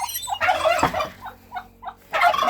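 Turkey hens gobble nearby in rapid, warbling bursts, with a couple of shorter calls in between.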